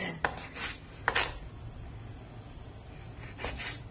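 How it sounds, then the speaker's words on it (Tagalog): Beef being cut into small pieces on a board for nilagang baka: a few sharp knife taps and scraping strokes spaced apart, close and fairly quiet, with no talking. "maghihiwa tayo nitong ating karne. Liitan lang natin kasi para mabilis lumambot"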